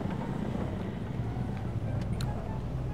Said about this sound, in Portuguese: que barulho de carro velho é esse?